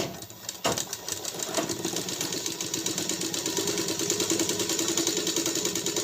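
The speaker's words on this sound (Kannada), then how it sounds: "ನಿಧಾನಕ್ಕೆ ನಾಲ್ಕು ನಾಲ್ಕು ಹೊಲಿಗೆನೇ ಹಾಕ್ಕೊತ ಹೋಗಿ" A sewing machine stitching cloth in a tailoring class, whirring steadily and loudly at close range after a brief start, with no talk over it.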